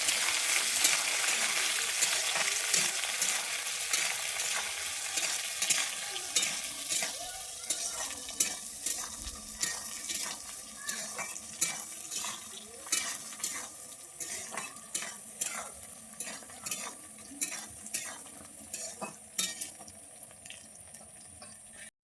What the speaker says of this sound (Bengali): বিনসটাকে দিয়ে আমি এবারে ভালোভাবে ভেজে নিচ্ছি